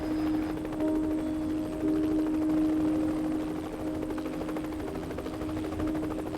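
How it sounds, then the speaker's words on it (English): A helicopter arrives in the Arctic to collect a tranquilized polar bear, its rotor giving a steady, throbbing drone with a sustained engine whine on top, loud and constant and swelling slightly as it nears. "Here comes the chopper."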